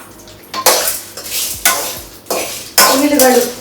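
Urad dal and chana dal frying in oil in a pan, stirred with a metal spoon: four loud scraping, clattering strokes against the pan, each fading away, with a light sizzle in between.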